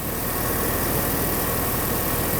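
A Mercedes car engine idles with a steady, even hum and vibration, close and constant, with no voices.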